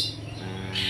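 A white-rumped shama (murai batu) gives a brief, loud, close burst of song: a rich warbling phrase ending in a sharp, bright note, heard alone.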